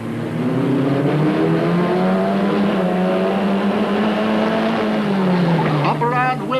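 Onboard a Bill Griffin Crosley Formula Ford at a Dundalk road race in 1989, the engine howls loud and close, its pitch climbing and falling through gear changes, with a brief squeal near the end.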